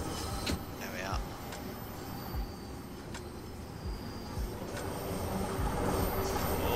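Train rumbling along steadily in Train Sim World 2, a low continuous rolling drone with faint clicks that slowly grows louder, as if gathering speed, with no talking over it.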